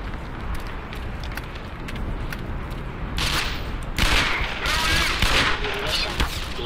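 Gunfire in the video game Black Mesa: loud shots and bursts crack repeatedly over a steady noisy background, growing heavier in the second half.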